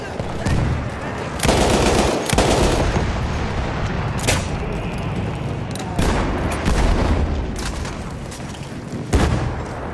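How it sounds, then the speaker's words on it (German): Battlefield 1 combat in the Argonne: a grenade blast and heavy gunfire, sustained automatic bursts broken by several sharp, loud bangs and booms, dense and close, with voices faintly under the noise. "Ich werfe eine Granate!"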